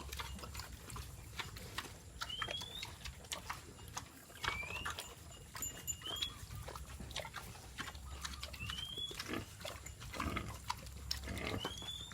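A tusked wild boar breeding male feeds on a farm, making repeated close, rough grunts and crunching chewing noises in an irregular, steady rhythm over a low background hum, with no talking.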